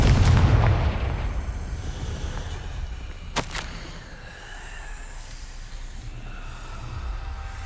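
Confringo fire spell detonating in Hogwarts Legacy, a loud booming blast up front that rumbles and fades, followed by a sharp crackling snap and lingering magical shimmer.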